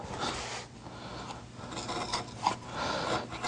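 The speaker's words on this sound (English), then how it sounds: "Take our flat gouge and create the panes of the windows." Flat gouge carving window panes into a wooden house, a faint close scraping and rasping that rises and falls in short strokes without talk.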